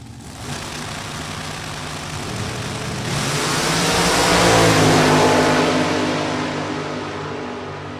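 A drag racing dragster from Jim's Welding Service at Maple Grove Raceway rumbles at idle, then its engine swells in a loud rising rev near the middle before easing back, a heavy, close, continuous roar.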